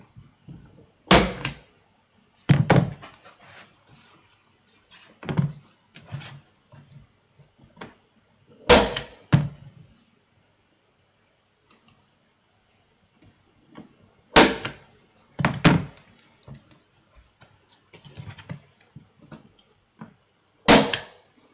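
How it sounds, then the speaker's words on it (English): A desk stapler snaps down in sharp, percussive clacks, single hits and quick pairs scattered across the stretch with quiet gaps between, each followed by a brief rattle, close and loud with no talking. "It's just a stapler."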